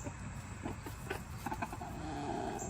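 Soft, fairly quiet clucks and short murmuring calls from backyard chickens, several brief irregular clucks over a low background hum.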